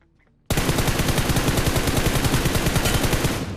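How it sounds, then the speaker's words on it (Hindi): Automatic gunfire in the BGMI battle royale video game, a sudden, sustained, rapid burst of close, loud shots in an even rhythm lasting about three seconds after a brief quiet start. "बड़े ही आराम से इस बंदे को भी लास्ट हेडशॉट के साथ में फिनिश कर दिया।"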